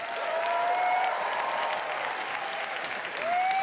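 A crowd on the red carpet at the Cannes Film Festival keeps up steady, dense applause for the film's producer, broad and even throughout, with a faint whistle-like tone sliding in now and then.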